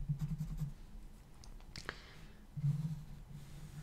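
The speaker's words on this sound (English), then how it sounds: "we're going to have to draw another cross here" A pen drawing lines and crosses on paper while sketching a CMOS stick diagram, giving short close scratchy strokes in two bursts with a low hum underneath.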